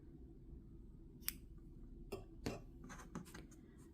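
Scissors snip through crochet yarn, a few quiet, sharp clicks and short snips close by against a faint background hiss.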